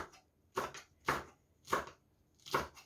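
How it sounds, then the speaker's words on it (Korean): A knife slices red chili and cheongyang peppers on the diagonal, giving four crisp, evenly spaced chops against a cutting board, close and clear with no talking. "이것도 어슷어슷 썰어주세요"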